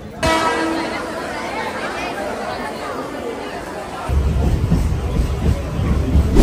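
Crowded Dadar railway station in Mumbai, with a dense wash of crowd chatter and footsteps and a bell ringing through it, then a louder low rumble of a train building near the end.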